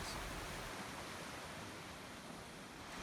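A creek runs beside a hiking trail in City Creek Canyon, giving a steady, close rushing of water with no break and no voices.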